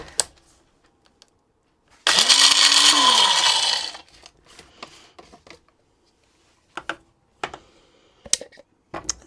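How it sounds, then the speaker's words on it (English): An electric grinder whirs loudly for about two seconds as it grinds chai spices and ginger, its motor pitch rising then falling, followed by quiet handling clicks and taps. "So I'm going to put that in here and grind it up together."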